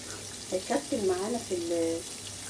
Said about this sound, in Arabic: هنا بنضيف اللبن السخن، عشان لو هو ساقع هيكتل معانا